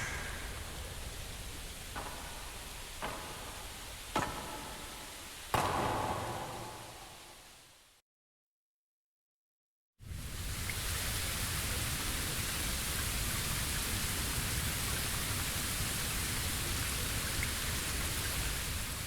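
Steady, heavy rain hisses in the Bleach Rebirth of Souls video game. A few sharp cracks come first, then a brief silence, then a dense, constant downpour that fills the rest of the scene.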